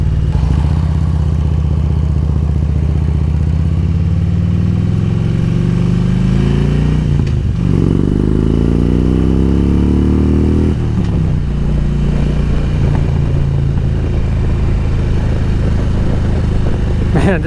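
A 2007 Harley-Davidson Road King Classic cruising loud and close, its engine rising in pitch as the throttle is opened, dipping briefly, then pulling hard again, with wind rumble and road clatter throughout.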